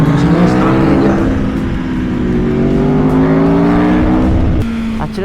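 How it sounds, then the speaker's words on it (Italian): A motorcycle engine revs up hard out of a corner on a Sardinian road, its tone climbing and shifting through the rise, loud and close with steady wind rush underneath. "Accelerazione in uscita, toccatina di freno."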